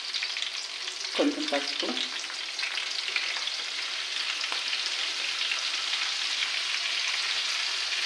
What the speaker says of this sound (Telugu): నూనె కాగిందండి. ఈ ఉల్లిపాయ పేస్ట్ వేస్తున్నాను.